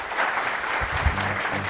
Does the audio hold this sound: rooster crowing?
no